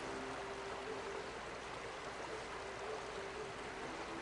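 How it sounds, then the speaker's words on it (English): A waterfall in The Outer Worlds roars as a steady, even broadband rush of falling water, continuous and fairly faint, with no voices over it. "Waterfalls are nice."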